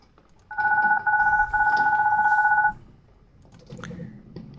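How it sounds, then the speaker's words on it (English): A phone ringtone wakes a sleeper: a loud, steady two-tone electronic ring sounds for about two seconds with short breaks, then stops, leaving a faint room hush with a soft rustle. "The sound of my ringtone yanks me out of my sleep like a punch."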